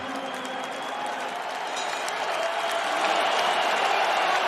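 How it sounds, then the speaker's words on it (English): A large arena crowd at the Kingdom Arena applauds after a boxing fight, with dense sustained clapping and a rising roar that swells slightly louder toward the end. "Huge ovation inside the Kingdom Arena. Everybody applauding these two warriors."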